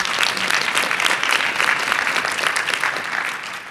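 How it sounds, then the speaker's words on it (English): A conference audience at a session of the PPMD 2023 annual conference gives a round of applause, dense and loud clapping from a large crowd that holds steady and then begins to taper off. "So please, an applause for the tech people. And then also a round of applause for the presenters and the audience."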